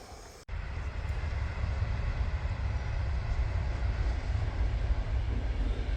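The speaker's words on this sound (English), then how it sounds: "Just in time for another train." A passing train gives a steady, broad rumble and roar that starts abruptly and then holds at a constant level for several seconds, heard from nearby outdoors with no talking.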